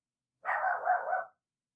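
A single dog gives a short, continuous bark-like vocalisation of just under a second, moderately close and alone, with no talk over it.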